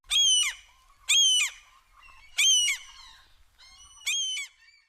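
Seabirds on the Jurassic Coast squawk in four or five loud, harsh bursts spaced about a second apart, close and clear, with no voices.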